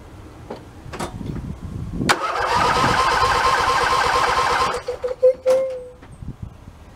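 A YTH 2454 lawn tractor engine cranks after its carburetor has been cleaned: one loud, steady burst of cranking lasting about two and a half seconds that never catches, followed by scattered clicks and a short tone.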